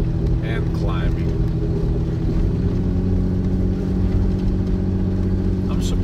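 A Toyota Land Cruiser drives and climbs through deep snow in Siberia, its engine a steady loud drone running unbroken throughout with a faint whine on top.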